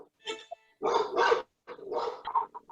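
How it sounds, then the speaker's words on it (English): Several dogs bark in bursts, fairly close and loud, with pauses between the barks and general activity around them. "I hear lots of dogs and activity going on."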